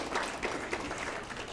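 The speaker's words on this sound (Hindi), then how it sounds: "इनके लिए भी जोरदार तालियां श्रवण कुमार" Applause from an audience at an awards ceremony in India, greeting the first runner-up of a category; a steady, moderately loud wash of clapping from many hands runs throughout with no distinct voices.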